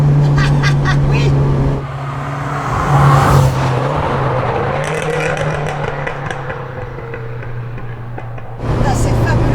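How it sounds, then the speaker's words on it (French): A Renault 5 GT Turbo engine drones steadily while the car is driven, a close, continuous hum with faint surging as the throttle changes, running under people talking. "On entend respirer le moteur de 4L quoi."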